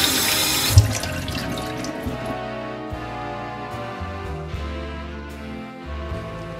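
Water drains and trickles in a kitchen sink from rinsed lentils for a vegan lentil stew, opening with a brief rushing splash that settles into a steady, close trickle with faint clinks.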